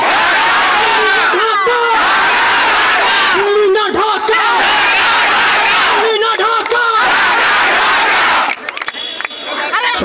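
Students chanting political slogans in unison at a rally on ATM field in Naogaon, a large crowd shouting rhythmic call-and-response bursts, loud and close, with brief pauses between lines.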